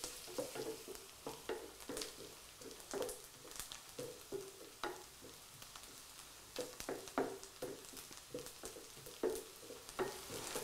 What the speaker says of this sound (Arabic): نحمصو مليح هذاك البصل في الزبده